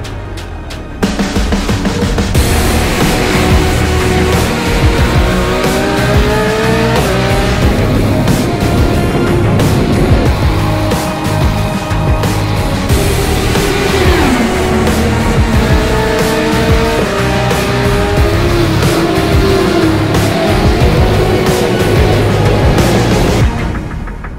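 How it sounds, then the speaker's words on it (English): Race car engines roar loudly and constantly in the iRacing video game, with pitch sweeping up and down through gear changes as the cars speed around the Phillip Island circuit. "This is the original esport racing game. This is iRacing."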